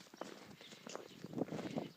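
A horse plods through deep snow, its steady muffled hoof falls and crunching steps repeating every half second or so, fairly close, with no clear talking.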